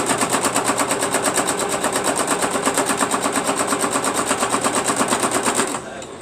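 A sewing machine runs steadily, stitching across the top of a crocheted quilt with a rapid, even mechanical clatter that stops abruptly near the end.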